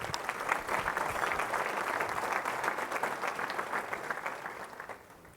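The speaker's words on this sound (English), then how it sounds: "So how about a round of applause for that great group?" An audience at a downtown Denver civic presentation applauds, steady dense clapping from a sizable crowd that fades away at the end.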